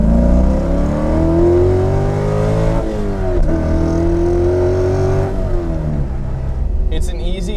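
A 550 HP C5 Corvette Z06 with a big cam pulls hard toward redline, its loud, close engine note climbing steadily in pitch with two brief dips as revs fall and rise again, a continuous roar throughout.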